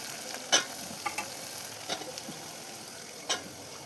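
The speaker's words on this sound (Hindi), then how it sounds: "मेरी सब्ज़ी भी फ्राई हो चुकी है" Vegetables frying in a home kitchen pan, a soft, fairly quiet sizzle punctuated by a few scattered clinks and scrapes as the food is stirred.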